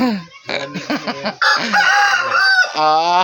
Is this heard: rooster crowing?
yes